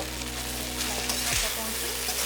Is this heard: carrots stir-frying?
yes